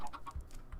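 A few short, soft clucks from a chicken in Minecraft, quick and close, with slight electronic quality over quiet background.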